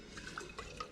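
Starchy pasta water is poured from a jar into a sauce, giving a brief, faint liquid trickle with small drips and splashes against a quiet kitchen background.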